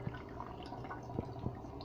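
Beef broth pours from a can, giving a faint, soft liquid trickle with a few small drips and splashes over a couple of seconds, close by and quiet.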